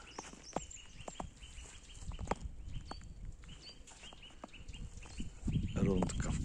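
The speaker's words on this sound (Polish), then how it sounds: "Cicho nie jest, bo ptaszki świerkają." Small birds chirp and twitter outdoors on a cold Sunday walk, faint intermittent calls scattered over soft footsteps and background rustle, with a brief voice near the end.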